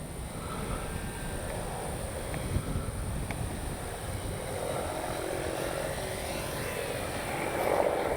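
A Durafly Brewster F2A Buffalo V2 RC airplane on a 4S battery comes in to land, its electric motor a faint, distant whine over steady outdoor wind noise that swells slightly near the end.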